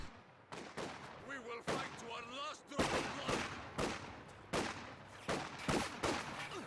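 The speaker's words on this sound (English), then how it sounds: "Squad getting forced away by the machine gun" Machine gun fire in Company of Heroes 2 sounds as repeated bursts of sharp cracks over a steady battle din, with a voice talking over parts of it.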